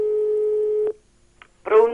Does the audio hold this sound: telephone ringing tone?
yes